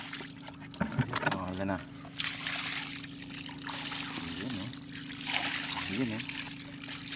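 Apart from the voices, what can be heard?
washing caught fish with water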